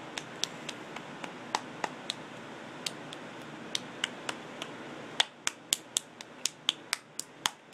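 A young boy claps his hands near a crying baby girl, crisp and close in a quiet room, with sparse, uneven claps that grow quicker and sharper toward the end.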